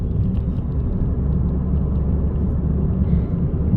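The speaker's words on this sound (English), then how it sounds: "Now let's upshift without the gas pedal." A 2022 Toyota Corolla with a manual transmission upshifting without the gas pedal, heard from inside as a steady low engine and road rumble, loud and continuous without talk.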